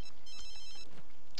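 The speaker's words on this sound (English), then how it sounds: "How about you answer your phone" A phone rings in The Sims 3, a short electronic ringtone with repeated tonal bursts, fairly quiet and heard alone.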